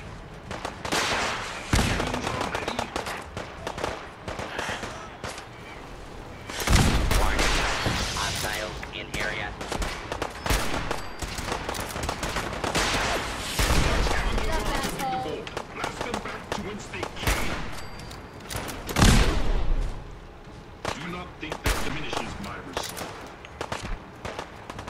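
Gunfire in Fallout 4: repeated sharp shots and bursts spread through a noisy game fight, several heavy loud blasts standing out, with someone talking over much of it.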